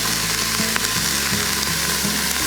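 Onions, mushrooms and garlic sizzle steadily in a Mealthy MultiPot as they are stirred, a loud continuous frying hiss with soft scraping bumps from the spoon and no talking.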